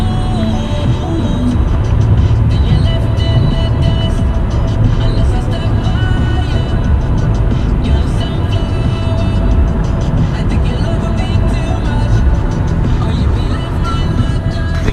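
Car cruising at about 80 miles per hour on an American highway, with a dense continuous roar of road and wind noise, loud and steady throughout.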